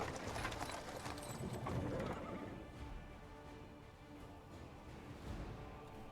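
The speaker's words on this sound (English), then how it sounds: "the sound of wheels rolling on paving stone. A cart drawn by a sad little horse appears from around the corner." Wheels of a cart pulled by a small horse roll over paving stones with steady clip-clop hoofbeats, a continuous close rattling clatter that fades slightly midway and swells again.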